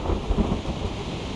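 Thunder rumbles beneath steady rain in a stormy sea scene in the video game Reverse: 1999, a dense, continuous low roar with a couple of heavier booming swells and no voices.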